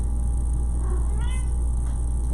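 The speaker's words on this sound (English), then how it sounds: "There goes my cat." A pet cat meows once at middle distance, a short rising-and-falling call standing out over a steady low household hum with no talk.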